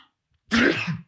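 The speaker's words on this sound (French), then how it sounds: "Je vais éternuer." A single sharp, explosive burst from one person after a short silence, brief and close, like a sneeze.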